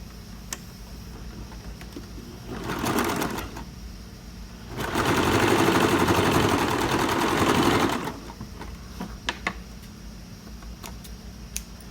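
A sewing machine stitches a blouse collar seam at one centimetre, running in a short burst and then a longer steady whir of about three seconds, with quiet handling clicks before and after.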